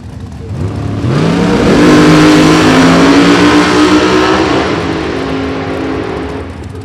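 Drag racing cars at a race event, the engines revving hard and launching down the strip in a loud, sustained roar that climbs in pitch, peaks, then holds as they pull away, with no speech over it.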